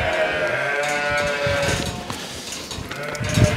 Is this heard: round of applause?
no